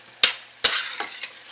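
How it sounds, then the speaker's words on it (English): A spoon stirs a spice blend into mushrooms frying in a pan. Two sharp scrapes against the pan come first, followed by lighter stirring strokes over a soft, close sizzle. "we're just going to stir that in"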